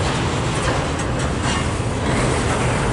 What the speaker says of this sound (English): Come on, train, keep going.